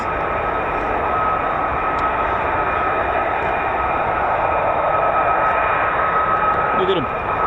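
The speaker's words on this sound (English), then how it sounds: "Here we go, F-35's down the catwalk." F-35 fighter jets taxiing at RAF Lakenheath, a steady roaring whine of jet engines holding at constant loudness throughout, with a thin high tone on top and people talking faintly beneath.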